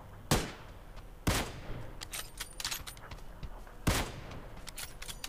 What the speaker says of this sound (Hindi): तो इस बंदे को मैं Kar 98 से मार रहा हूँ की कोशिश कर रहा हूँ।